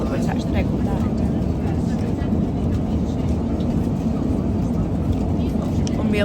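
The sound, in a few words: airplane cabin noise during flight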